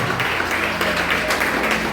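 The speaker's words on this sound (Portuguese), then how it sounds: "A igreja pode aplaudir e glorificar o Senhor." A church congregation applauds during a worship service, a steady wash of clapping with a sustained tonal drone beneath it throughout.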